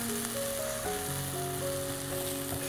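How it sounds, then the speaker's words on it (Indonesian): Bay leaves and spice paste sautéing in a pan, a steady close hiss of sizzling oil that continues without pause, with a faint tonal hum underneath. "Sambil langsung kita tumis daun salamnya ya, 2 lembar ya."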